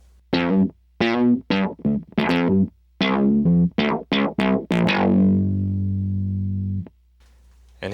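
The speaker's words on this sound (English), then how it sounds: "Here's a percussive sound." Bass guitar through an Electro Harmonix synth pedal giving a percussive sound: a quick run of short, plucked synth stabs ending on one long sustained note that fades, loud and up front, with no voices.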